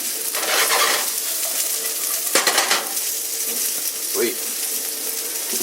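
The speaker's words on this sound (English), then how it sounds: "The steak's coming along nicely." Steak sears in a cast iron pan with steady frying hiss, punctuated by scraping and clattering handling noises, and a brief spoken word.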